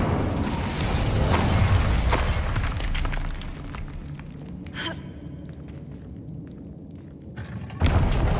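An Incendio fire spell cast in Hogwarts Legacy, a loud whooshing, crackling burst of flame that fades over a few seconds, followed by quieter rumbling and a second sharp flare near the end.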